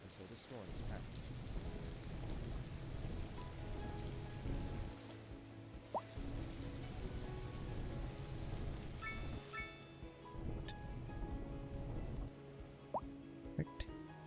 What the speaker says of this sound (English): A severe hailstorm is approaching.